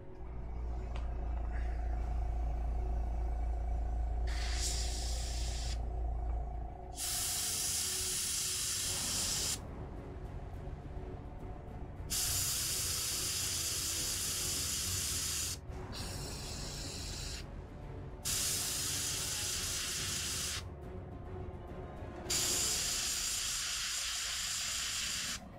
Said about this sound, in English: So I'm going to turn on the compressor and get right at it.